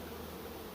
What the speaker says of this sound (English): So here's the bees, the box.